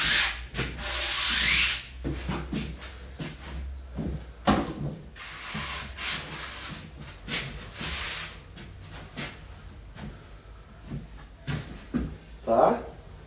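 A kiteboard shape is sanded by hand for a smooth final finish, giving irregular bursts of scratchy rubbing strokes close by, with a longer hiss at the start. A person talks between the strokes.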